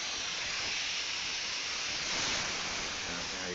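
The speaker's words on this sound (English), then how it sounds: "You can kind of see a little steam coming through there." Steam hissing from a hydraulic-steam hybrid engine: a continuous broad hiss that swells slightly toward the end, steady and fairly close, with no other sound over it.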